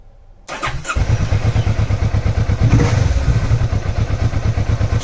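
A Vulcan motorcycle engine cranks briefly and catches, then settles into a steady, close, loud chugging idle that continues without interruption.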